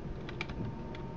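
A brief, faint burst of typing on a computer keyboard: a few quick, light key clicks in a quiet room.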